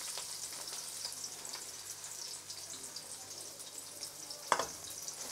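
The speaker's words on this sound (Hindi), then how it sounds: "और इसे तब तक हम गोल्डन ब्राउन फ्राई करेंगे जब तक ये गोल्डन ब्राउन हो जाए।" Onions frying in hot ghee for a spinach chicken curry, a steady soft hiss and crackle throughout with one brief louder clink near the end, no talking.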